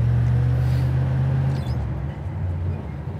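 Engine of a 1972 Chevy Nova idling low and steady while its transmission shifts into gear. A drop in tone and a soft clunk come midway, then the motor settles into a quieter idle.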